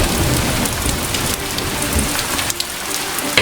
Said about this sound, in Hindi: और बारिश भी होने लगती है।